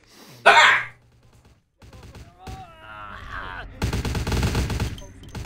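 Gunfire in Vampire The Masquerade - Bloodlines: a loud short burst of shots near the start, then grunts and scattered sounds, ending in a sustained rapid volley of automatic fire.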